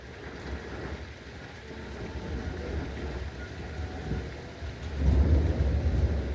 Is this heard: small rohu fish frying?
no